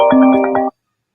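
A phone ringtone plays a short, loud, melodic burst of tones that cuts off abruptly into silence.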